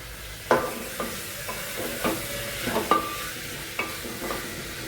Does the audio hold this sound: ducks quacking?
no